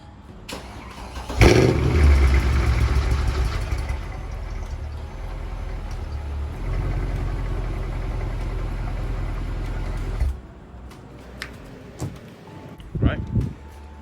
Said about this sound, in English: start her up, get the oil circulating for a couple of seconds